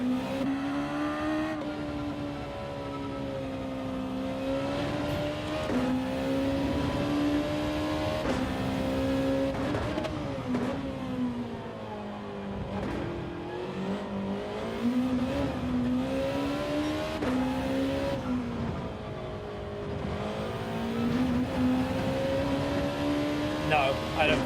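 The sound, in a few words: Honda NSX car engine driving in Gran Turismo 7 video game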